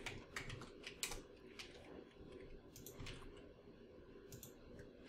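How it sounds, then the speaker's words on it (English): Soft clicks from a computer keyboard as a name is typed into an online form, a quiet, irregular run of key taps heard close by. "and I would type in my name."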